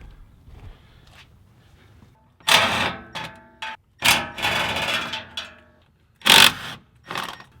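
Bolts are undone beneath the fuel filter of a 2017–2019 Ford F250, heard as several short, loud bursts of ratcheting mechanical clicks separated by quiet pauses.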